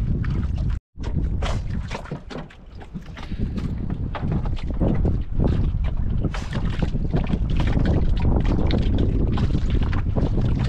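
Steady engine drone and heavy wind buffeting, like a motorboat underway, loud and continuous with a brief dropout near the start.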